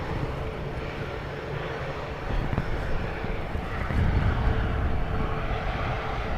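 An Airbus A320-200, an older variant with wingtip fences, passes at Dublin Airport in blustery crosswinds, its steady broadband engine roar swelling midway and holding loud throughout, mixed with gusty wind buffeting the microphone.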